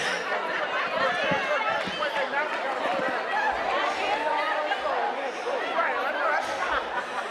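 A crowd chatters at the James A. Joseph lecture and awards dinner, with many overlapping voices and occasional laughter forming a steady, dense hubbub throughout.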